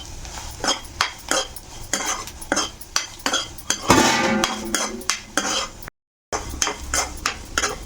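Paneer pieces tossed with turmeric, chili powder, salt and kasuri methi in a metal bowl for a chana dal paneer pulao, giving a steady run of close clinks and scrapes from a spoon against the dish, with one brief pause.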